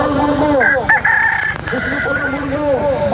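Rooster crowing at a cockfighting arena, several drawn-out crows rising and falling in close succession, loud and near over a busy background din.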